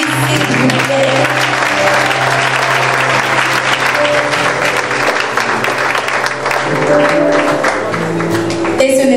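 Loud, sustained applause for an award winner at a ceremony in Côte d'Ivoire, a dense clapping wash over a steady music bed, with voices mixed in throughout.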